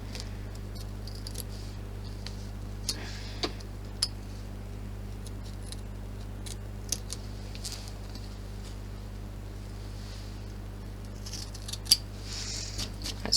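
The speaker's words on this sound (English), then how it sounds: "I can remove the excess of this with my applique scissors" Applique scissors trimming excess fabric beside a zip on a large clutch bag, sparse faint snips and clicks spread out over a steady low hum, with no talking.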